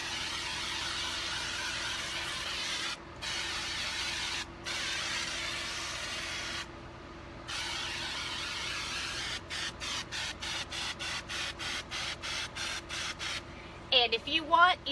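A pump sprayer hisses flocking onto a wreath in long bursts with brief gaps, then turns to a rapid series of short spurts, close up under a steady background hum.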